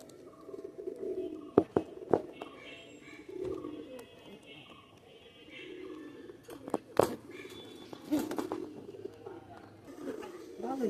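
A young Maya pigeon cooing in soft, low repeated calls close by, mixed with a person talking and a few sharp knocks and handling noises.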